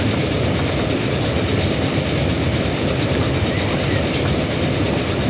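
A train in the Transport Fever game rolls steadily over the rails, a dense, constant rumble with faint clickety-clack running throughout, loud and unbroken with no voices.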